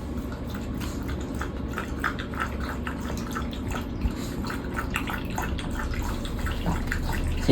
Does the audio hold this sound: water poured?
yes